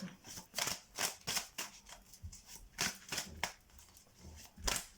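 Tarot cards being shuffled, drawn and laid onto the deck, close, soft papery slides and flicks repeating in an uneven rhythm.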